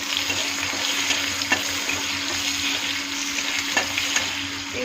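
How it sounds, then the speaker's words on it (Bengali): Onion sizzling in a pan of hot oil with cumin seeds, a steady close frying hiss with a few soft clicks and stirring sounds. "পেঁয়াজটা ছেড়ে দিচ্ছি।"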